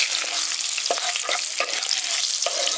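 Cumin seeds, a pinch of asafoetida, a green chilli and a bay leaf fry in hot oil with a loud, close, steady sizzle punctuated by sharp pops and scrapes of stirring.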